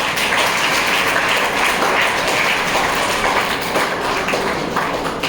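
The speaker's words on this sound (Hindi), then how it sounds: "जो हमारे टीचर्स के लिए बेटे जोरदार तालियां बजाइएगा" Students at a school farewell applaud their teachers with loud, dense, continuous clapping from a large crowd, close and sustained with no talking over it.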